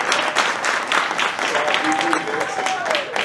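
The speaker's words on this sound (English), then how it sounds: "I hope you will clap for Charlene" Wedding guests applaud the wedding planner with a lively, sustained round of clapping. Faint voices and a brief high tone sound underneath.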